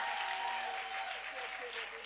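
A church congregation applauds in praise: steady, dense clapping from a large group, sustained evenly for about two seconds, with a voice faintly heard over the noise.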